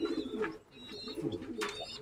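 A club-ringed racing pigeon from a CRPA 2024 ring coos in a close, soft, throaty run of repeated notes, steady across a couple of seconds, with no talk over it.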